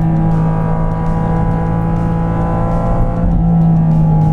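A Porsche 718 Cayman GT4 RS flat-six engine revs hard and close, a loud sustained mechanical howl with a steady harmonic drone that dips briefly and climbs again toward high RPM, no talking.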